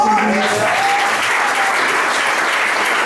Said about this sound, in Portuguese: Você podia bem aplaudir a Deus.